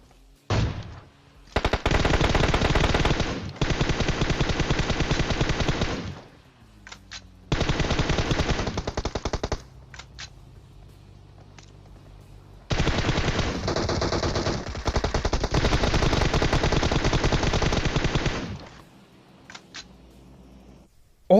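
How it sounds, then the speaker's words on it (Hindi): Automatic gunfire in PUBG Mobile: long, loud sustained bursts of rapid shots separated by short pauses, with sporadic single shots between volleys and no voices. "मैं साइड से खड़े होके गोलियां पेल रहा हूं"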